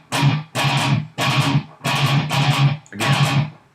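Palm-muted electric guitar chugs ring out in a steady rhythm, about six heavy, dampened strums of roughly half a second each, loud and close, with no voices.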